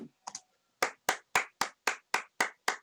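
Eight sharp hand claps ring out close and loud at a steady, even rhythm, preceded by a couple of faint quick sounds.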